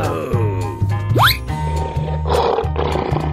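A lion roars with a rising, throaty sweep over a steady low hum and music-like tones, loud and close, amid other animal sounds in a playful animal-themed sequence.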